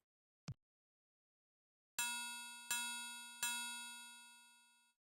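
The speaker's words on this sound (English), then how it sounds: "I rang the bell." In the Indiana Jones and the Last Crusade video game, a mallet strikes a bell three times. After a short click, three bright metallic rings each ring out and fade, the last tailing off slowly.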